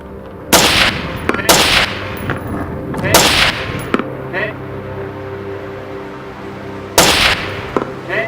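Gunshots at a shooting range during a marksmanship contest: about five loud, sharp cracks in an irregular sequence, with quieter gaps and faint background noise between them.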